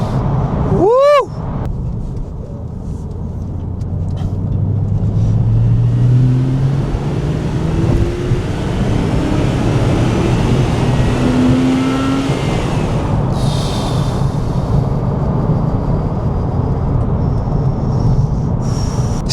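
A Porsche 911 Carrera 2S engine pulls hard under acceleration from inside the car, a loud sustained roar rising in pitch after a brief sharp sound at the start, with a voice reacting over it.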